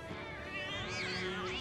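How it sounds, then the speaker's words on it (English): In Final Fantasy VII Remake, cats meow in a strained, wavering caterwaul, steady and fairly loud over faint game ambience, with no talk. "Now we're gonna go see some cats."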